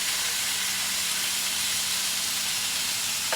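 Fish frying in a pan gives a dense, steady sizzle and hiss, close and fairly loud, with no voices over it.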